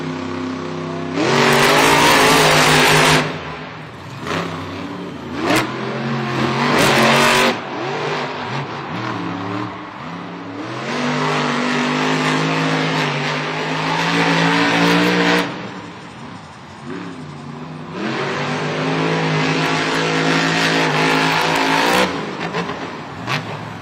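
Monster trucks El Toro Loco and Gravedigger racing at a Monster Jam stadium event in San Diego, loud roaring engines revving up and down in surges with tire noise, close and continuous, alternating with brief lulls.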